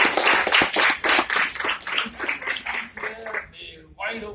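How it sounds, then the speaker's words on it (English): An audience at a talk gives a round of applause for Ram, with loud clapping that tapers off over a few seconds as a voice begins to speak. "We should give him a round of applause for one thing."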